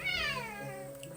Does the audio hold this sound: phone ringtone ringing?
no